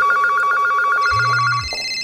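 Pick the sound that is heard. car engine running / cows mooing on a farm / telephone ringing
telephone ringing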